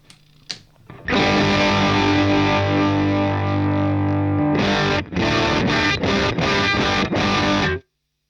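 Heavily distorted electric guitar played with humbucker pickups through a UAFX Ruby amp pedal with the gain turned up, a long sustained loud chord followed by a run of short chopped stabs, then abrupt silence.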